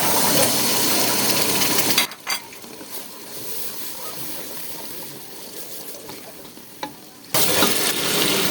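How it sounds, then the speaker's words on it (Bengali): Spices are stir-fried in a pan with a splash of water for a liver and chickpea dal dish. A loud, steady sizzle drops to a softer bubbling hiss with a few scraping stirs, then swells back to a strong sizzle. "তো মশলাগুলোকে আমি খুব সুন্দর করে কষিয়ে নেব।"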